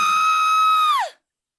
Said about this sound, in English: I don't know if this has got a scream on it too